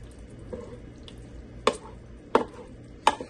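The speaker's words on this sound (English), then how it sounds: "Give it a stir" Spaghetti sauce being stirred in a Ninja Speedi pot, three sharp spoon knocks against the pot over a low background hum, close by and with no speech.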